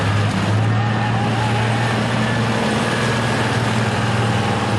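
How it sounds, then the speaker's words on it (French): A farm tractor passes during a farmers' protest march in Paris, its engine a loud, continuous low drone that holds steady for the whole stretch. "Il est électrique son tracteur, non? Il faisait un drôle de bruit."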